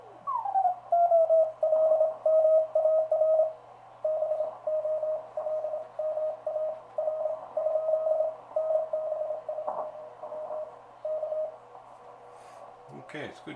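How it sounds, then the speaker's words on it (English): A homebuilt 30-meter amateur radio band receiver picks up Morse code signals. A steady beeping tone keys on and off in bursts over a faint hum and static, with a brief tuning sweep at the start and a click at the end. "it's good to hear the band supporting some activity here"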